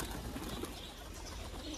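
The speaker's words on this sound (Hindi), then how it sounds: "सभी कबूतर यहाँ पर आके खा रहे हैं" Pigeons gather to feed and give soft, low coos amid faint flutter and background hiss. The sound is quiet, short and fairly distant.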